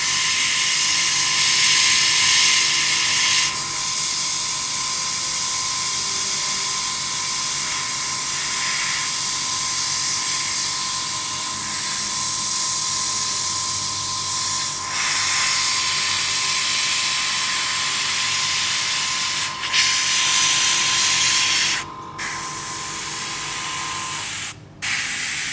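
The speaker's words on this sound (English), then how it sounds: "You want to really focus on the airbrush, go really close" Airbrush spraying paint for a nebula artwork, held very close to the surface: a loud, continuous hissing spray over nearly the whole span, with a few brief cut-offs near the end and no talking.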